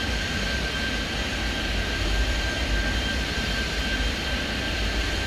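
In the airport simulation game Airport Madness 3D, airliner jet engines roar in a dense, steady wash with a faint high whine, loud and continuous with no talking.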